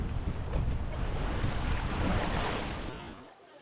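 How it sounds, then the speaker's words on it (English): Sea waves washing onto the shore at Budva, Montenegro, as a continuous broad roar mixed with wind buffeting the microphone, fairly close and steady before easing off at the end. "if you love the sound of waves"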